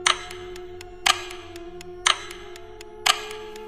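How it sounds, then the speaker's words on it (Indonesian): A wall clock ticks steadily in a silent house at night, one sharp tick about every second with a constant low hum underneath and no voices. "Detik jam dinding terdengar seperti hantaman palu di tengah kesunyian desa yang mati"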